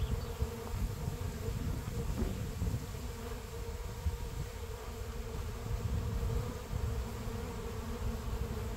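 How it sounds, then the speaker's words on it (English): Honeybees swarm around a hive while a frame of brood and bees is moved from a strong hive into a weak one, making a dense, continuous buzzing drone close by, with no talking. "Feels like a swarm here."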